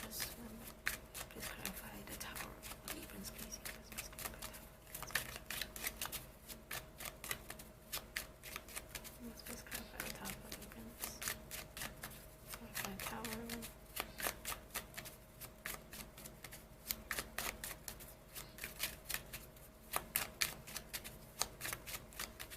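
Tarot cards being shuffled during a reading, producing a steady, soft, rapid riffling and flicking that continues throughout, with a person talking quietly over it.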